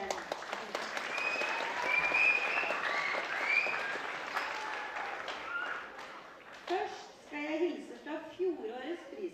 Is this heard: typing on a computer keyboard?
no